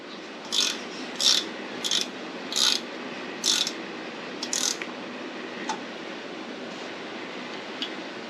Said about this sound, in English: I want to tighten them down evenly.